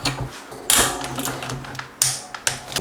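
Shimano bike cassette lockring being tightened to 40 newton meters with a torque wrench, giving close, dry ratcheting clicks in a few sharp bursts with quieter mechanical rattles between them.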